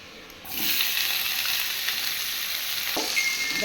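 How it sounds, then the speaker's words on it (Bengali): Tomato and vegetables (aubergine, spring onion, potato) fry in hot oil in a pan, a steady close sizzle that swells sharply after a quiet start and holds loud throughout, with no voices. "এবারে দেবো টমেটোটা এই যে তেল রাখা আছে এবারে দিয়ে দিই"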